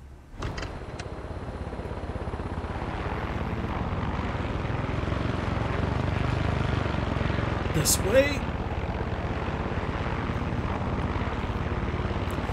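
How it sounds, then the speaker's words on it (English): A helicopter's steady rotor and engine roar in the video game Far Cry 6 fills the clip, with a person speaking briefly and a short click near the end. "Helicopters are just better to fly than flying planes in this game"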